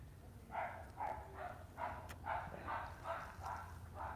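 A dog barking in a steady series of about eight short, evenly spaced barks, faint and somewhat distant over a low background hum.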